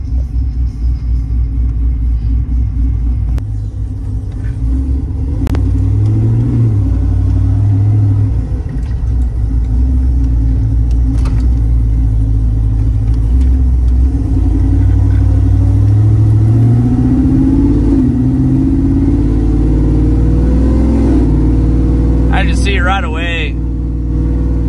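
A ZR1500 engine runs on a dyno with a loud, heavy rumble that swells into rising revs later on, while people talk over the noise.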